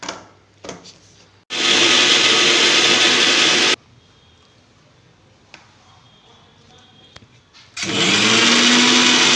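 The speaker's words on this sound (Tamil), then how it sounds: "இதில் சின்னதாக 2 வெள்ளைப்பூடு அரிசி போட்டு அரைச்சிட்டு வந்துடுறேன்." A kitchen mixer grinder blends coconut, cumin and garlic in two loud bursts of several seconds each, a harsh motor roar separated by a quiet stretch of faint kitchen sounds.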